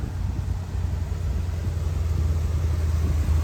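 A Ford 460-powered vehicle rumbles along on the drive home with its engine cover off, giving a loud, close, steady low engine drone throughout with no talking.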